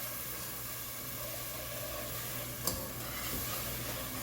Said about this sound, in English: we're going to continue to whisk this in until that is all dissolved